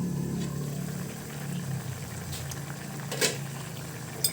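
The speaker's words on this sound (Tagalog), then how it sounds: "isisimmer natin yan hanggang sa maging tender yung ating pork" Creamy pork curry simmers in a covered pot, a steady low bubbling rumble with a couple of faint clinks near the end and no talk.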